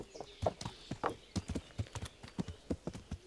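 Horse hooves clip-clop in the medieval video game Kingdom Come: Deliverance, a steady run of distinct, fairly soft hoofbeats in an uneven walking rhythm, heard alone.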